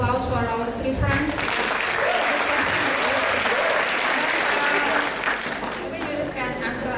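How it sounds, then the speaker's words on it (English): An audience in a university lecture hall applauds three students, a dense, steady wash of clapping that holds for several seconds and tapers off near the end, with voices mixed into the crowd. "Give applause for our three friends."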